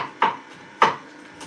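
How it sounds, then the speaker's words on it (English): A knife chopping a habanero pepper on a cutting board, two crisp close thuds about half a second apart, with a faint third starting. "I'm just back here chopping up the habanero pepper that I'm going to add"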